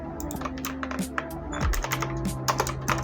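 Rapid, steady keyboard typing on a computer, close and fairly loud, over a background of low tonal hum and noise.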